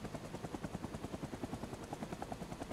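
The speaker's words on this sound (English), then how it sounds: "Everyone out of my helicopter right now." A helicopter in the Vietnam-era video game Rising Storm Vietnam thumps with a steady, rapid rotor beat, close and continuous, with no talking.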